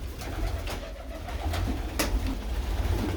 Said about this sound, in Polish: możecie sobie popatrzeć, jakie to gołębie ja tutaj mam